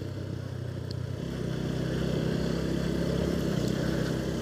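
A motorbike rides through the streets of Kathmandu during lockdown, its engine a steady low drone that swells slightly after the first second and holds, close and continuous with no voices.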